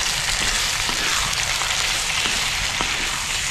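Sponge gourd (nenua) flowers, buds and soft pieces sauté in a pan with a dense, continuous frying sizzle, loud and close, steady without pauses and with no voices.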